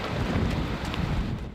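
Heavy rain and wind from a powerful storm called a weather bomb lash coastal Newfoundland and Labrador, a dense, loud, continuous roar of downpour with low rumbling gusts.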